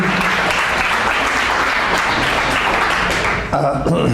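An audience at a science cafe gathering bursts into steady, dense applause welcoming a speaker, loud and sustained before tapering off at the end.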